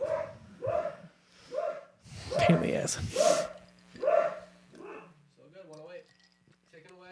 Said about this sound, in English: A dog barking excessively up there.